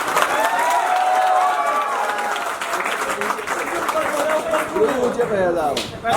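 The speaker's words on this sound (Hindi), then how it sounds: "ठीक है धर्मेंद्र सर के लिए एक बार ताली बजाओ।" An audience applauds and cheers steadily throughout, a dense wash of clapping from a crowd that swells and continues without pause.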